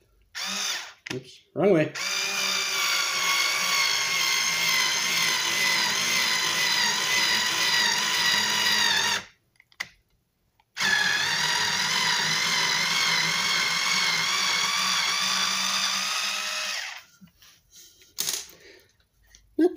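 A Craftsman CMHT6650C cordless screwdriver drives a screw into a 2x4, two long, loud, steady motor whines, each several seconds, separated by a short pause, with brief speech and handling noises around them.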